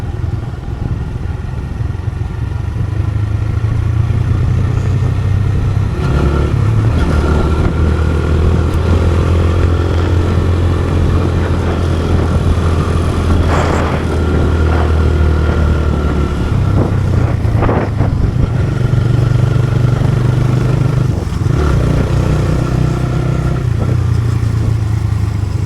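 Motorcycle engine on a descending hill road in the Lama–Alikadam–Thanchi hill area, a steady low drone held through the whole ride with gear shifts and pitch changes, loud and close, no talk.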